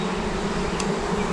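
Honeybees buzzing from a newly introduced colony on a mountain farm, a continuous close droning hum with a brief higher whine partway through.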